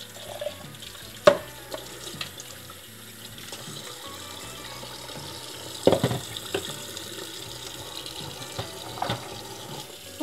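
Juicer parts from a Hurom H70 slow juicer rinsed under a running kitchen tap, a steady rush of water into the sink with a few clunks of plastic pieces knocking against the basin.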